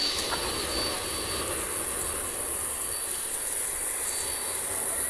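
Jet airliners, including UPS Boeing 767s, taxiing at DFW Airport at night, a steady distant roar and high turbine whine holding evenly throughout with no talking.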